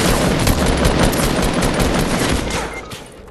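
Sustained gunfire in Fortnite, a dense unbroken stream of rapid shots from another player, loud and close. Over the last half-second it fades away.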